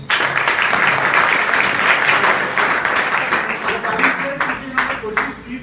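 Students clap together in a school hall during an adolescent education session, a dense steady patter of many hands that holds strong throughout, with a voice speaking over it now and then.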